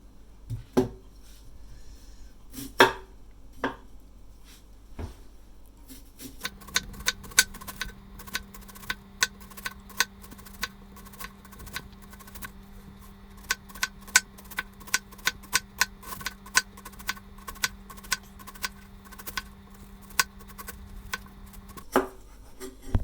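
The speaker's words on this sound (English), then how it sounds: "I'm supposed to cut them in rings, but it's easier to cut them in half rings." Knife chopping onions into half rings on a cutting board in a home kitchen, a long run of sharp, fairly regular taps with a steady low hum underneath.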